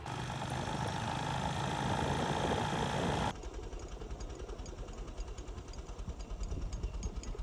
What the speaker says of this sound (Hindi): मारते हैं अब अपनी लाडली बाइक को किक और निकलते हैं इंशाल्लाह